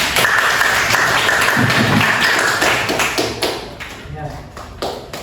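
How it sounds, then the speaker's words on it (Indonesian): Schoolchildren in a classroom clap for a classmate, a brisk burst of close, sharp claps that tapers off toward the end as a voice and classroom chatter come through. "kita beri tepuk tangan untuk Faisyah"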